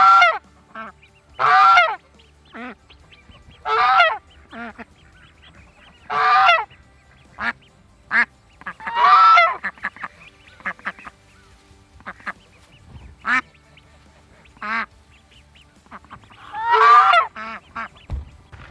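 Ducklings and geese on a homestead give repeated honking, quacking calls in short bursts spaced a second or two apart, close by and clear against a quiet outdoor background.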